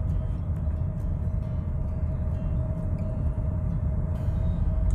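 A metro train passes nearby on an elevated line in the An Phu area of Thu Duc City, Vietnam, producing a steady, loud rail rumble with a faint sustained tone that holds for the whole stretch, with no talking.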